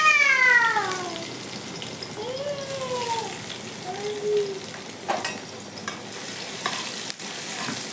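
Crushed garlic sizzles in hot mustard oil under a steady, moderate crackle with stirring clinks. A cat meows several times near the start, and scattered sharp knocks follow later.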